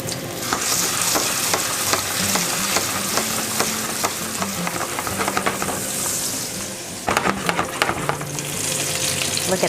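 Vietnamese honey garlic sausages fry in a pan at about 180 °C, a loud, steady sizzle and crackle broken by stirring and scraping sounds, with no talk.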